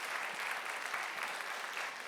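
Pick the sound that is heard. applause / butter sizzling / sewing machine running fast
applause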